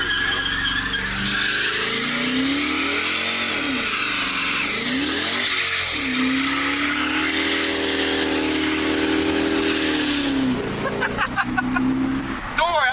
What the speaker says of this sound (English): Doing really cool, awesome burnouts.